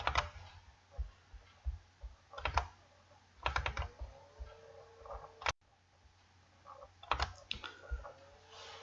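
Code is typed on a computer keyboard in quick bursts of close, crisp key clicks separated by short pauses, with no talking.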